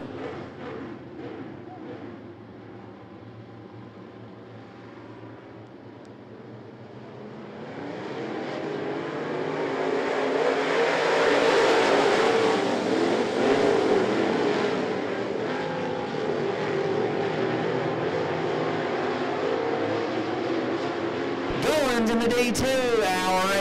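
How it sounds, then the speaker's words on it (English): Race cars on the I-75 Raceway oval track pass as a field, the engine roar swelling from a distant drone to a loud, sustained sweep before fading slightly, with a sharp noise burst near the end. "Goins and Doss leading the field out of four to Green Flag Racing."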